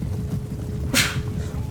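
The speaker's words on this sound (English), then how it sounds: "Had to sneeze that one out, folks." A single sharp sneeze bursts out near the middle, close and loud, over a low background murmur of battle sounds from a Total War Warhammer game.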